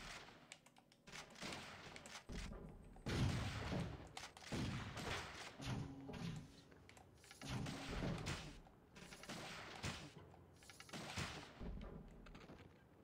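Minigun and shotgun fire in the video game Turok Evolution comes as repeated loud blasts and rapid bursts packed close together, with brief gaps between volleys.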